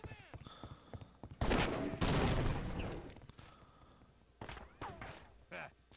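Sniper rifle fire in the Half-Life: Opposing Force video game, two heavy close shots in quick succession with ringing tails, amid scattered game effects and a few lighter impacts.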